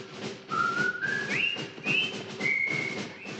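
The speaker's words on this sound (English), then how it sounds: "the twins' campmates follow whistling the Colonel Bogey March" Several campmates whistle the Colonel Bogey March together in clear, melodic phrases with short pauses between them, close by and without speech, over a faint background hum.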